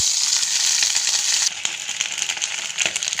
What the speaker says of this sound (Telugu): ఆయిల్ వేడెక్కుతూనే మనము వేయించుకోవాలి